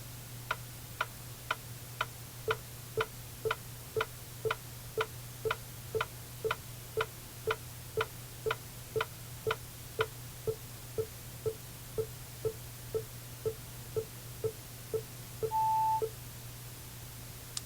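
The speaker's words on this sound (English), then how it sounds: "So the metronome will start running, and the subject can start tapping." Steady metronome clicks from a TeensyTap finger-tapping test setup tick at an even pace, with a person's softer finger taps landing alongside, over a low constant hum; a short electronic beep near the end signals the trial's end.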